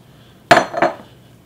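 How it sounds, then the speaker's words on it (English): A cottage cheese and raisin casserole mixture dumped into a greased baking dish and pressed flat, heard as two quick, close clattering knocks of a utensil against the dish, alone in near silence. "we're just going to dump all the ingredients out here. And flatten it in."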